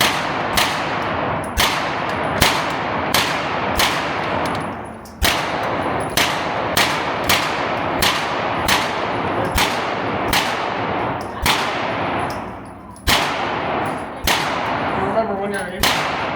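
Pistol shots at a shooting range crack out loud and close in a steady series of a dozen or so evenly spaced reports, each with a ringing tail, over constant background noise and faint talk.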